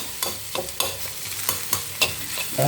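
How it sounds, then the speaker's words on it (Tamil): Beans poriyal being stirred with peanut powder in a pan, a run of quick rhythmic spatula scrapes over a soft frying sizzle, close and distinct, with no talk. "இப்போ எல்லா இடத்துலையும் அந்த பவுட்ரு மிக்ஸ் ஆகட்டும்."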